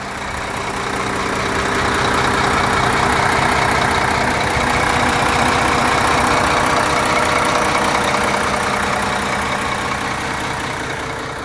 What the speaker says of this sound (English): Whilst the engine's running, I'll just take you in for a closer listen.